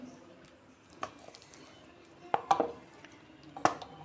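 Katla fish kalia curry is tipped out of a cooking pan, giving a few clinks and scrapes of metal against metal, scattered and close, with a brief wet squish in between.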